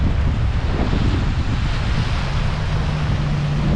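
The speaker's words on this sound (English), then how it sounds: "I'm sure you can hear the wind, but actually the wind is quite soothing in a way because it's very hot as well" Strong, steady wind roars across the microphone on a hot Aruba beach, a loud continuous buffeting rush with surf washing faintly beneath it.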